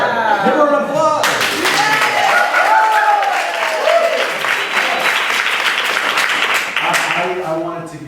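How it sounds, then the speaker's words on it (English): A business meetup audience bursts into loud, sustained clapping and cheering that fills several seconds, with voices calling out over it and a few leftover claps as it fades. "let's do a big round of applause"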